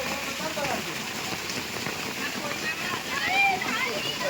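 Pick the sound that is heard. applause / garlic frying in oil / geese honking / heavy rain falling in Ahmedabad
heavy rain falling in Ahmedabad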